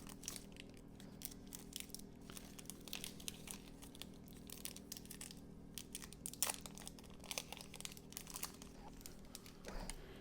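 A Yu-Gi-Oh! booster pack is torn open and handled up close, with soft, continuous crinkling and rustling of the foil wrapper at low volume.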